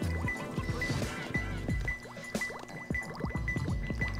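Water gurgles and sloshes as the level shifts after a switch is thrown in Sonic Adventure 2, a steady liquid wash running under bright game music with repeated chiming tones.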